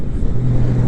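Engine drone of a sixth-generation Honda Gold Wing DCT motorcycle during a downshift, a loud, close low hum whose pitch steadies into a sustained tone in under a second.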